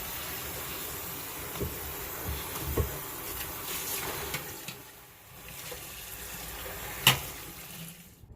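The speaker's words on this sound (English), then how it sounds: "So I'm going to give these a good washing." Gourds are rinsed under running water, a steady close wash of splashing and trickling with a few brief knocks and a sharper splash near the end, no one speaking.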